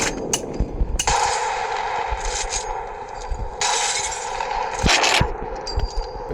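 Sniper rifle gunfire in Apex Legends Mobile, sharp shots cracking at irregular intervals over game ambience and metallic clatter, with no voices present.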